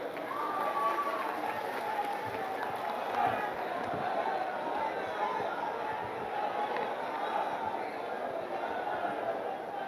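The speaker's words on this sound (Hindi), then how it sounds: "जोरदार तालियों से स्वागत करें" Continuous applause and crowd noise from a large outdoor Congress election rally in Varanasi, a dense steady clatter of many hands mixed with crowd babble throughout.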